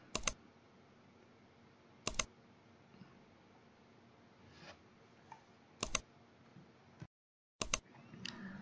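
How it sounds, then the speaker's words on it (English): Computer keyboard keys pressed at a desk: four sharp, isolated clicks spaced a second or more apart, crisp and close against a faint background hush. "Hit Windows key and R key at the same time"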